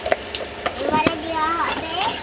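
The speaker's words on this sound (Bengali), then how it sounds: "কড়াইতে তেল দিয়ে দিল, তারপর পেঁয়াজ ঢেলে দিল" Onions frying in oil in a wok, a close sizzle with scraping stirring strokes and a few clinks of the utensil against the pan, while voices speak in the background.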